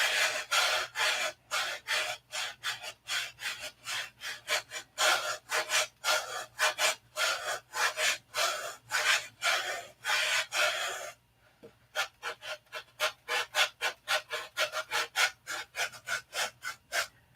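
The side of a model aircraft fuselage is sanded by hand in quick, rhythmic back-and-forth rasping strokes, close and steady, with a brief pause near eleven seconds before the strokes resume at a faster pace.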